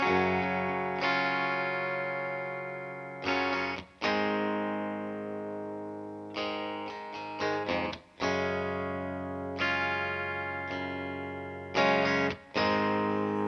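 Electric guitar chords on the bridge pickup ring out through a Fender Deluxe Reverb tube amp at volume 8, with spring reverb tails trailing after each strum; loud and close, no talking.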